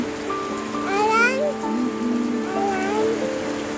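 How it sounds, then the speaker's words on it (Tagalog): Steady rain pours onto a flooded garden bed on a small integrated farm, a constant close hiss with wavering, voice-like tonal sounds rising over it at moments. "Nagbabaha yung aking garden. Pag ganyan maulan."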